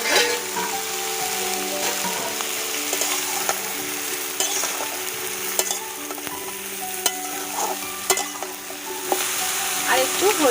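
Long-cut potato pieces and vegetable stalks sizzling in hot oil in a pan, a steady crackling fry broken by occasional scrapes and clinks of stirring.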